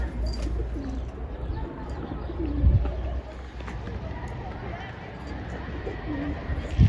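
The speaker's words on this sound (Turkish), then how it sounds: "burada kuşlarımız" Pigeons cooing softly amid a steady outdoor hum, with occasional low voices in the background.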